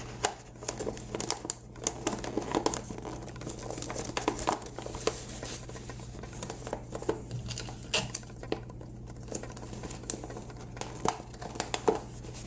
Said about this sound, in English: And do tape it down quite well. Make sure it's not going anywhere.